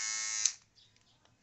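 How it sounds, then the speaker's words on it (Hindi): A Philips BT1212/15 electric trimmer buzzes steadily at close range, then switches off about halfway through, leaving faint clicks and handling noise. "हम जब ये ट्रिमर को ऑन करते हैं"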